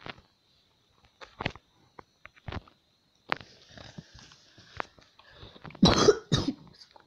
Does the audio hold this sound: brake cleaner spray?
no